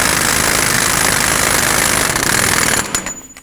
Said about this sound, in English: I'm going to use my air gun to snug it up because it'll be way faster